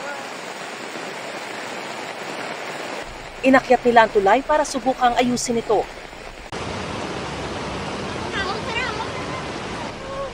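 Rushing muddy floodwater pours past a damaged bridge during heavy rain in Patnongon, Antique, a steady broad roar that carries on under a voice speaking in the middle.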